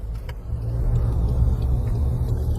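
A 2024 Range Rover Velar diesel cruising on an expressway, a low steady engine drone and road rumble from inside the cabin, swelling slightly as it goes, with no talk.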